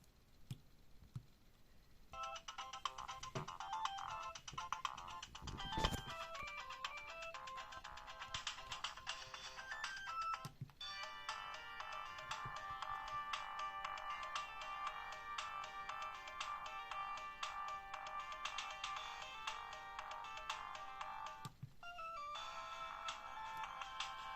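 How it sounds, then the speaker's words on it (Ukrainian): Built-in ringtone melodies from a 2000s mobile phone play one after another, thin and tinny electronic tunes with short pauses and faint clicks between them, quiet and close with no talking. "Ще тут є вбудовані отакі от мелодії."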